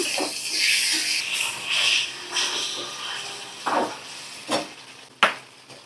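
Onion, tomato and green chili fry in a pan with a steady hiss and sizzle, broken by a few sharp clinks and scrapes of a utensil. No one speaks.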